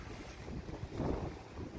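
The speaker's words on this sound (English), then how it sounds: "It's really windy and cold." Strong, cold wind blows outdoors at an abandoned Kmart lot, a continuous low roar buffeting the microphone with a gust swelling near the middle.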